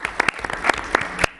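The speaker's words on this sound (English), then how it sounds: "everyone start clapping" Audience applause after a school musical at a school board meeting, a short burst of dense, close hand clapping from a crowd.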